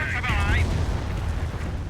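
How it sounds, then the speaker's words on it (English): In the Company of Heroes video game, an artillery barrage strikes a bunker, making deep rumbling booms under a steady roar of battle. A short whistling tone comes early, and a voice talks over it. "Barraging the bunker."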